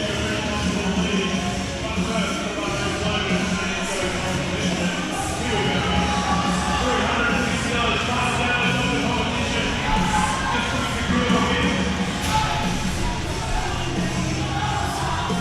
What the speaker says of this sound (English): So the crowd getting behind Garth now.